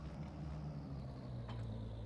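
A tractor engine in Farming Simulator 22 drones at a low, steady idle, a continuous close rumble with no break and no voices.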